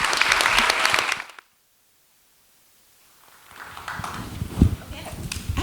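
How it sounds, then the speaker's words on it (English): Applause from a panel audience at a women-in-investing event, a bright dense clatter that fades to near silence, then returns more loosely with scattered claps, shuffling and indistinct voices. "Please give a round of applause to our panel."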